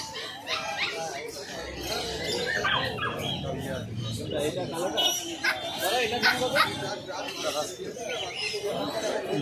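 Dogs at a street pet market, German Shepherd and Chow Chow among them, bark, yip and whimper repeatedly at close range, with chatter and bird chirps mixed in around them.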